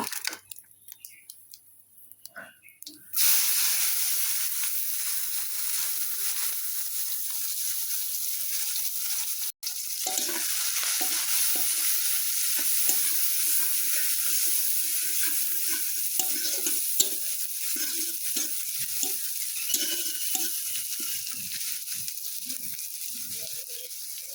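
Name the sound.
onion frying with cumin and bay leaf in oil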